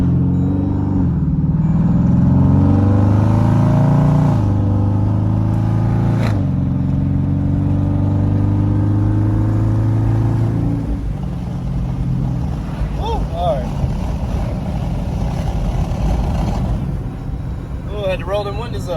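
Jeep SRT engine on a highway, a loud low rumble that climbs and then steadies as the SUV eases off, with steady road and wind noise running throughout.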